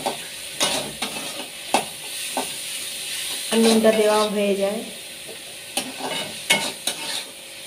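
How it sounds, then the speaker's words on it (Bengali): Onions frying with salt in a pan: a soft steady sizzle broken by scraping stirs and short clatters, with a brief louder hiss midway and someone speaking quietly over it. "এবার পেঁয়াজটা ভাজতে থাকি"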